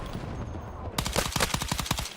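Rapid automatic gunfire rings out in Battlefield 6, starting abruptly after a quiet lead-in and continuing as a fast, loud, close burst of evenly spaced shots.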